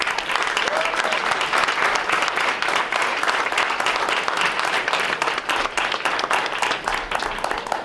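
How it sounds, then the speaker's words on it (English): An audience at a school board meeting applauds students' parents and family with loud, dense clapping that holds steady for the whole stretch, many hands at once and no speech. "we want you to stand up and we want to give you a round of applause and thank you"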